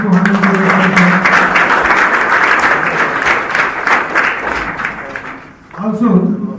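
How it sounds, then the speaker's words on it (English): Loud, sustained applause from a large conference audience, clapping filling the room for several seconds before a voice briefly cuts in near the end. "Can we have a big round of applause"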